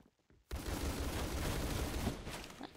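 Dense automatic gunfire in Roblox Phantom Forces bursts in after a brief quiet start, a loud, continuous rattle of rapid shots that carries for about two seconds before tapering slightly.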